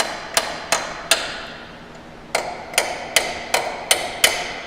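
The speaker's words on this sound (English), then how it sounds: "Now I just lightly tap on these bushings." A hammer lightly tapping aluminum alternator bracket bushings on a Chevy, GMC or Cadillac: eight sharp metallic taps, three in quick succession, a pause, then five more at an even pace, close and clear, with no talking.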